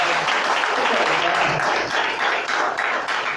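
A church congregation applauding during a sermon, continuous dense clapping from many people filling the space at an even, fairly loud level throughout.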